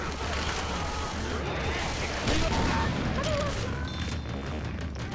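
Explosion and gunfire from Left 4 Dead 2 in the Dead Center campaign, a dense continuous rumble with a heavier boom swelling around the middle of the clip and steady combat noise throughout.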